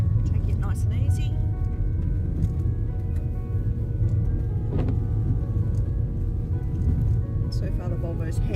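A Volvo car driving slowly along a wet dirt road on the way to Green Cape in Ben Boyd National Park, its steady low road rumble and tyre noise continuous throughout, with a person talking over it.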